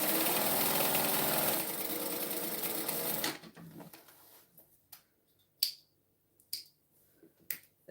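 A sewing machine runs steadily for about three seconds as it stitches fabric to fabric, then stops, followed by quiet and a few sharp isolated clicks and taps.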